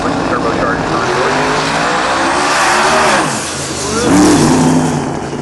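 A turbocharged 1957 Chevy drag race car roars past at full throttle, a loud, sustained engine note with shifting pitch as it accelerates and passes by, nearby and dominant.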